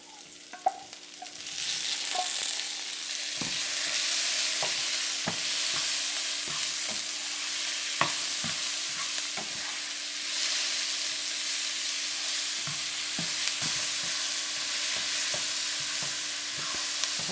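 Shiitake mushrooms fry over lowered heat in a pan for a beef and tofu stir fry, a loud continuous sizzle with scattered clacks and scrapes of stirring, no voices.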